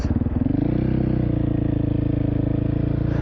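A KTM motorcycle engine revs hard and close, its throbbing note quickly rising in pitch and then holding high and steady.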